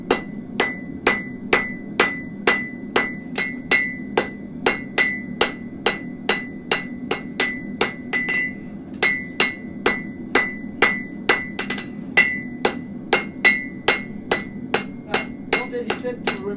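A hammer forging hot metal for onion-shaped shoes, steady evenly spaced ringing blows struck one after another at close range, loud and alone with no talking.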